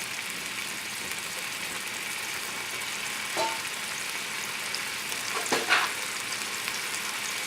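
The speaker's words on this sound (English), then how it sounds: "But you want to sear the meat." Seasoned beef searing in a hot pan for a bean stew, giving a loud, continuous hiss with a couple of brief bursts as the meat shifts, heard up close without speech.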